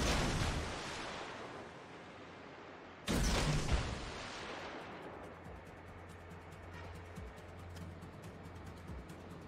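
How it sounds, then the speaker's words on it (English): Torpedoes launched in World of Warships from a Shiratsuyu destroyer: a sustained rushing rumble of sea and engine noise broken by a sudden loud whooshing burst partway through, then a steadier roar with faint clicks. "Dumping torpedoes"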